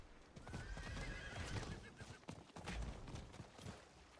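A horse whinnies and neighs repeatedly in Diablo 4, the mount's calls layered over hoof clip-clops and busy game effects, steady and fairly loud throughout.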